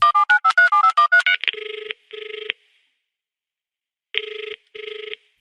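A phone call is placed: a quick run of keypad dialling tones, then two steady ringing tones, a pause, and two more rings. The sounds are clear and close, with no talking.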